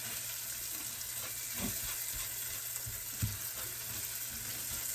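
Rice toasting in a pan on a home stove gives a soft, steady sizzle with faint scraping stirs, close and quiet, without talk.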